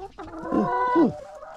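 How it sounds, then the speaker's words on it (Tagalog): A single chicken gives a short, close clucking call, a few throaty notes in a quick burst, then quiet. "Come in, chicken."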